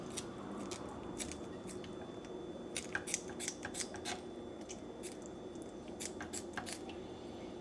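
Crisp snips and crunchy cuts break out in irregular bursts as food is sliced down the center, close and fairly quiet over a steady background hum.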